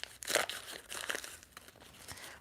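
Noisy paper is crinkled and rustled by hand up close for a couple of seconds, with irregular crackling bursts at a fairly low level and no talking.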